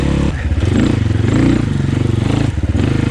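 A Moto Pro RR300 dirt bike picks its way over rocks, its engine chugging loud and close in an uneven, pulsing rhythm with rattles and knocks from the terrain.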